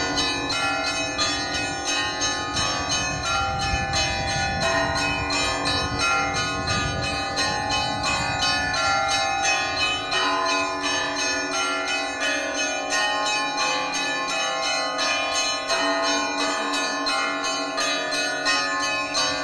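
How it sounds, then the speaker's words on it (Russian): Easter bells peal from the cathedral in Naryan-Mar, several bells struck in a busy repeating pattern that rings out loud and continuously, with no talking. "Под пение стихиры и пасхальный звон колоколов верующие обходят храм"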